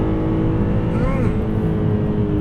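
BMW E46 M3 engine revving toward its high redline on a mountain road, a loud, sustained engine drone heard from inside the car, pitch rising briefly then levelling.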